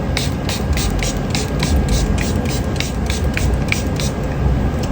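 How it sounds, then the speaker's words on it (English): Jane Iredale hydration setting spray misted onto a face, a steady hissing spray made of rapid repeated pumps, close and fairly loud, with no one speaking. "I just need to set this up with my setting spray."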